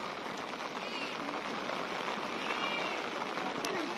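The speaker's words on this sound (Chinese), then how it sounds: "这下雨能凉快一些" Steady rain falls outdoors in Beiling Park in Shenyang, the imperial tomb park with a lake, as a dense, even hiss that stays constant and fairly quiet, with no clear voices.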